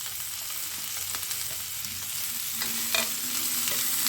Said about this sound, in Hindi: सबसे पहले हम इसी के साथ 2 मिनट के लिए शिमला मिर्च, बीन्स और गाजर ये सब भी डालकर 2 मिनट तक हम इसको और फ्राई करेंगे।